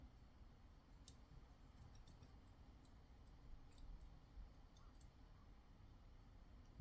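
A Lishi pick works the pins of an Ultion WXM lock, producing faint, sparse, tiny metallic clicks and ticks over a quiet background, with a slightly louder cluster near the middle and a sharp click at the very end.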